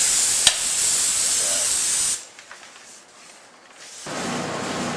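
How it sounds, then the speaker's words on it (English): A CAT air-assist airless spray gun sprays lacquer onto a board, giving a loud, steady broadband hiss for about two seconds, then a quieter pause and a second burst of spray near the end. "Now that we're ready to spray the lacquer on the board, we've got the gun all set up."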